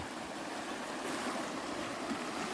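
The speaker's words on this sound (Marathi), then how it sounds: "जोरदार वावता पाणी" Constant broadband rush of water flowing strongly beside a half-full pond during heavy monsoon rain in the Konkan, an even roar with no pauses or voices.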